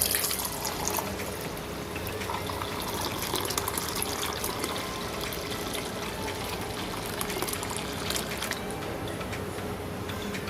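Milk is poured into a clay pot to make mishti doi, a steady liquid trickle and fill sound, faint and continuous, with no talking.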